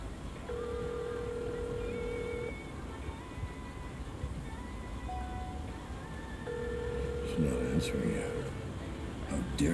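A phone call's ringback tone sounds twice as long, steady buzzing rings separated by a pause of several seconds, heard faintly under background noise and murmured voices.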